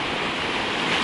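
Sea waves wash onto the beach at Antalya, Turkey, a dense, steady roar of surf mixed with wind noise on the microphone.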